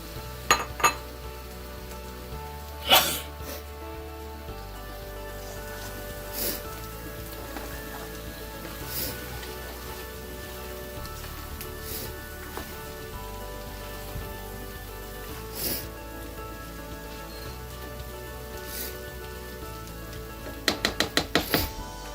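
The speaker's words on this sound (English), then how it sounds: "We're now going to add our shrimp." Shrimp frying in a thick tomato masala for a coconut dry chili prawn dish, a soft continuous crackling sizzle broken by occasional sharp clinks of a utensil against the pan, several in a quick run near the end.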